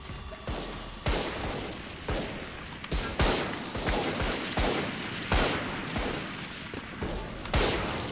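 Gunfire rings out in the Valorant video game in sharp, loud bursts: roughly eight distinct shots and short volleys spaced about a second apart, each with a quick echoing tail.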